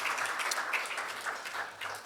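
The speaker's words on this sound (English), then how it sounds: "Big round of applause for you guys." Applause for the organisers at an AACTA awards event, a short burst of moderately loud clapping from the audience that runs steadily throughout.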